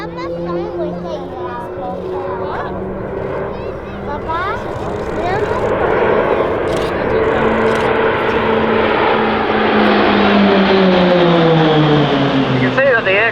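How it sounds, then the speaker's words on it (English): RAAF Roulette display aircraft flying low overhead, about 250 feet up at over 250 knots, in close formation at Point Cook: loud propeller engine drone rising and falling as the planes pass, with a commentator talking over it. "the aircraft will be flying as low as 250 feet, that's only 80 metres above the ground"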